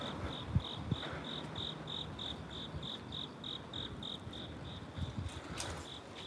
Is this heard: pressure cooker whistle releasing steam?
no